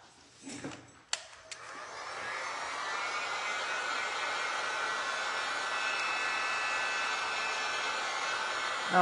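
Heat tool blowing hot air over glass and resin art on tin, a steady close whooshing hiss that starts after a few clicks and holds at an even level.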